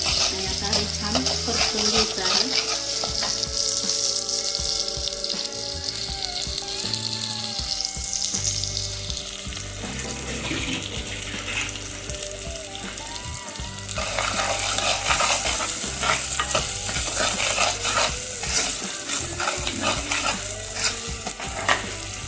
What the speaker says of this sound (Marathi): मसाला छान परतून घ्यायचा आहे आपल्याला